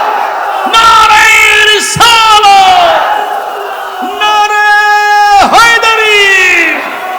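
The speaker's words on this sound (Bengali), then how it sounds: "আল্লাহু আকবার, জোরে বলেন।" A large religious gathering answers a preacher with a loud chanted slogan, shouted twice in unison by a close crowd of many voices, each cry rising and then falling away, with the preacher's amplified voice between.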